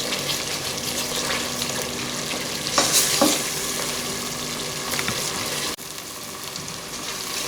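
Masala mixed with yogurt and onion fries steadily in a pan with a continuous sizzle and occasional scraping stirs, close and without talk.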